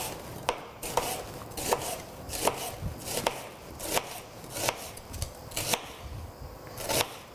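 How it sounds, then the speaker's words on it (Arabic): A knife slices an onion into long strips on a cutting board, giving steady, evenly spaced chops about one per second, close and moderately soft, with no talking. "رح أقطع هلأ البصل كمان، رح أقطعهم بشكل طويل"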